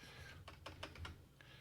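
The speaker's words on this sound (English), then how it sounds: "I hear you typing" Quick keystrokes on a computer keyboard tap out in short irregular bursts, fairly close, over a low steady background hum.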